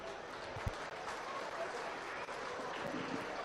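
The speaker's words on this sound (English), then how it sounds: "Let's make sure they leave the ring with a round of applause." Audience applause rings out for junior showmanship exhibitors leaving the ring at a 2024 swine show, a steady wash of clapping lasting several seconds with a few louder claps and a faint voice or two underneath.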